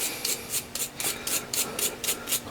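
A soft steel bristle brush scrubs tarnish off the metal of a Yaesu FL-101 ham radio transmitter, making quick, rhythmic, close scratchy strokes, about four per second, with no other sound around them.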